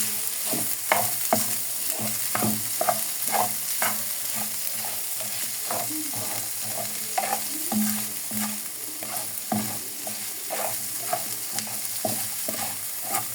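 Green beans and pepper are stir-fried over the fire in a pan, with a continuous sizzle and repeated scraping strokes of the spatula close by.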